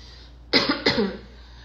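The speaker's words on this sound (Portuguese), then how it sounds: "essa tosse realmente tá muito seca" Two quick, dry coughs close to the mic in otherwise quiet surroundings.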